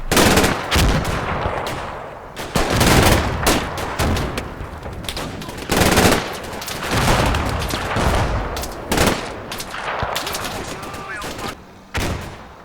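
Rapid bursts of rifle and machine-gun fire mixed with heavy mortar explosions from the Combat Mission war game, loud and continuous, with a narrator's voice faintly underneath.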